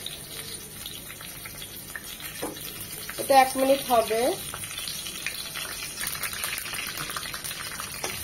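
Torn bay leaves and three cinnamon pieces sizzle in lightly heated oil for an Eid chicken roast. A steady soft frying hiss runs throughout, with a short voice speaking over it.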